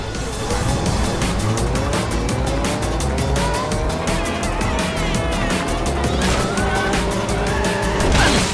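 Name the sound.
race cars racing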